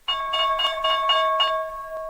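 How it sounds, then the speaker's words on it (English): A bright electronic bell rings repeatedly in quick bursts for the stock market opening, steady tones pulsing about six times over two seconds with no voices. "The opening bell."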